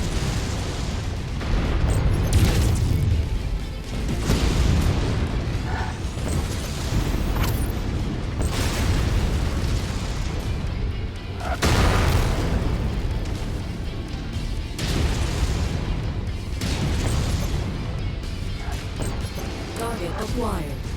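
Heavy explosions tear through a MechWarrior 5 mech battle, with recurring booming blasts over continuous rumbling combat noise while a voice speaks.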